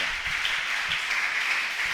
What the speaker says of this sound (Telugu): చప్పట్లు కొట్టి దేవున్నామాన్ని నామాన్ని